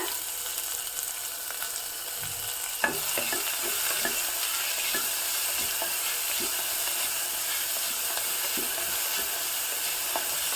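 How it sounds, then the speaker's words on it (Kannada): Chopped onions frying in a pan for baingan bharta, a steady broad sizzle running throughout with scattered clicks of stirring and one sharper knock near the start, no voices. "ಇವಾಗ ಎರಡು ಈರುಳ್ಳಿಯನ್ನು ಹೆಚ್ಚಿದ್ದನ್ನು ಹಾಕ್ತಾ ಇದ್ದೀನಿ"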